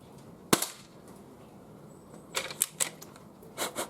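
Sharp snapping shots from an Umarex H&K MP7 air gun fired outdoors: one loud crack, then a quick cluster of about three more and a final pair, spaced irregularly over a quiet background.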